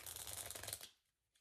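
Tarot cards being shuffled by hand, a steady close riffling and flicking for most of the moment before it stops into near silence.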